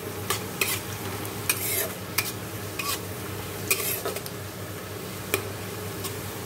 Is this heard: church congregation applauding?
no